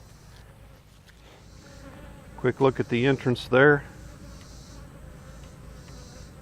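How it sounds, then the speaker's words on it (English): Honey bees fly at a hive entrance, their soft, continuous buzzing close by and steady, while someone speaks briefly in the middle. "Got some bees coming and going."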